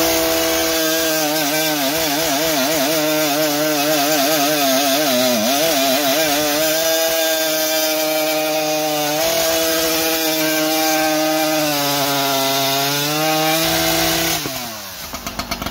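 A modified Stihl or Husqvarna chainsaw screams at high revs, wavering up and down before settling into a sustained, loud whine, then drops off abruptly at the end; no voices are heard.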